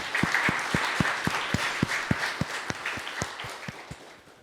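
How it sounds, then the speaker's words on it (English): Students in a classroom clapping, a fairly small group giving a brisk, rhythmic round of claps with clear individual beats, close and moderately loud, tapering off at the end. "Let's give him a clap."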